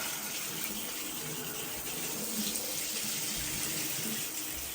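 A tap runs steadily as something is rinsed under it, producing a continuous, even rush of water at close range with no speech.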